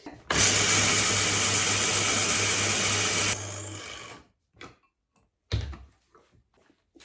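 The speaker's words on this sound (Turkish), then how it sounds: "Şimdi ilk önce malzemeleri robottan geçireceğim." A food processor grinds ingredients for gluten-free, yeast-free hemp seed bread, including oats, chia seeds, salt and baking soda, with a loud steady whir for about three seconds, then winding down, followed by a few soft knocks.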